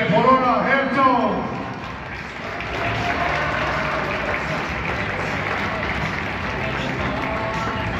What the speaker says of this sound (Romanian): haideți, vă rog să o aplaudăm o dată și pe Borona Herzog